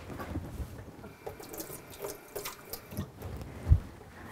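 Water runs from a kitchen tap in a steady, continuous stream with some splashing and faint drips, close by, with no talking.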